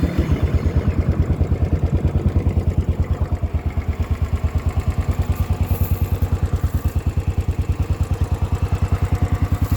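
A Royal Enfield Bullet 500 EFi single-cylinder motorcycle idles close by with a steady, rapid low thumping beat and some mechanical clatter, continuous and loud throughout.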